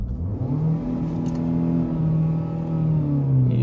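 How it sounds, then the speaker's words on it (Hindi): A car engine, one of two in a Skoda Laura versus Hyundai Sonata drag race, revs steadily and loudly at the start line, a sustained rising and falling drone with no talk. "ये रेव कर दिया, हमारी गाड़ी पूरी गर्म हो चुकी है।"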